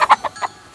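Chickens and a rooster on a farm cluck in a quick series of short, loud, close calls.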